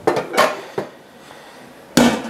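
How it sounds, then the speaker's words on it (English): A plastic whisk clattering against a pan while onions cook for a cheese and onion pie: a few quick, light knocks and rattles in short clusters, close and dry, separated by quiet pauses, with no one speaking. "We can use a plastic whisk."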